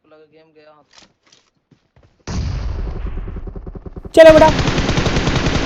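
Automatic gunfire in the mobile battle royale game BGMI comes in rapid sustained bursts after a quiet start with soft speech, then turns louder and denser partway through.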